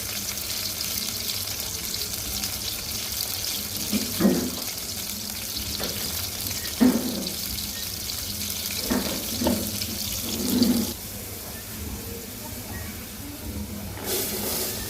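Water goes into a hot pan of fried onions for a hilsa curry with eggplant and potato, giving a steady close hiss with a few louder splashy bursts and clatters; no talking.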